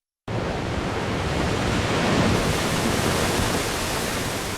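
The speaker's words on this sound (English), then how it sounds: "I want it to be flooded and destroyed by a massive wave of water, almost like a tsunami." A massive tsunami-like wave of water floods and destroys a location in an AI-generated scene, heard as a loud, continuous roar of rushing water that starts abruptly and holds steady throughout.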